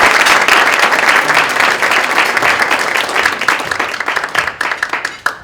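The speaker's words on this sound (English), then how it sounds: "So would everyone please give a round of applause to the Associate Attorney General, Vanita Gupta." Audience at a keynote event applauds the Associate Attorney General, a full, close burst of clapping that thins into scattered individual claps near the end.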